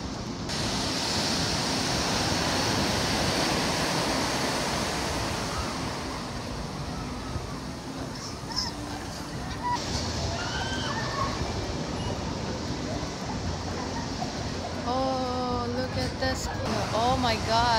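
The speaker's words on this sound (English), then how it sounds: "Waves." Ocean surf along the Malibu coast roars as a steady, broad wash of breaking waves, with brief higher-pitched sounds near the end.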